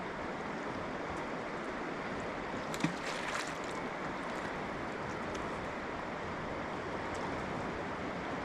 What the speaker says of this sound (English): you see where the water goes over the rocks? Yeah. You can hear that